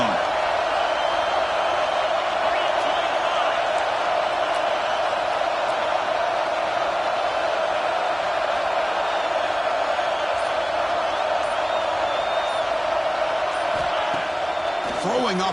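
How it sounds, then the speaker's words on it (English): A stadium crowd in an NCAA college football video game roars steadily at high volume for the whole stretch, a dense, unbroken wash of cheering with no pauses. "the crowd coming to life here, trying to help this defense down in the red zone."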